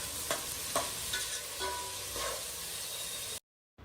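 Chopped onions with shahi jeera fry in hot oil for a leafy mutton curry, a steady sizzle broken by a few scraping stir strokes before cutting off abruptly into silence.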